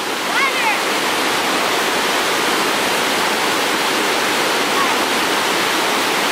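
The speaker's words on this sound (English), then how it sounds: "White water." Rushing white water from a waterfall roars steadily and loudly, a dense unbroken wash of spray filling the whole stretch with no pauses.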